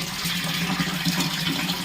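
Steady rushing of water pouring from a tap into a tub, a continuous broadband hiss with a low gurgling undertone, close and fairly loud.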